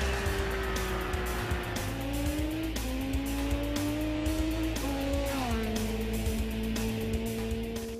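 A Benelli Tornado motorcycle engine revs steadily, its pitch stepping up and down under the throttle as a loud, continuous drone with no voices over it.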